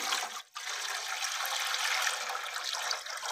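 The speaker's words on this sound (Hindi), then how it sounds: "पानी डालने लगा हूँ।" Water poured into a pipe pressure gauge on UPVC and PPRC plumbing fittings, a steady close hiss of flowing water with a brief break at the start, then continuous rushing without talk.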